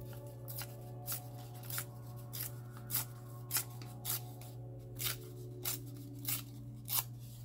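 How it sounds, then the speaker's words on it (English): Paper scraps rustle and crinkle as hands dig through scrap bins, with regular sharp swishes about every half second over a steady low hum, close and fairly quiet. "This is just me digging through all of my scrap bins"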